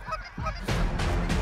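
A flock of geese honks overhead on a waterfowl hunt in Alberta, giving a chorus of repeated honks that grows louder in the second half.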